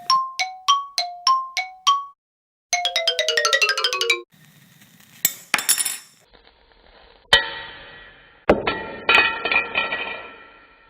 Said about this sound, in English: I just broke the glass.